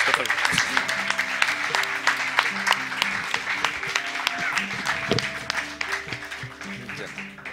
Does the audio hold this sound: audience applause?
yes